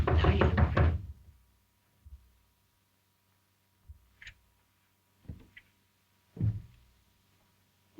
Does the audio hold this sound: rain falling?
no